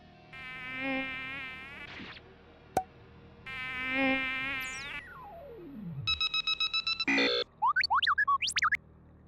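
Cartoon robot mosquitoes attacking a city give off whining electronic buzzes in swelling bursts, broken by a twang, a falling zip, a rapid stuttering tone and quick chirps, loud and close.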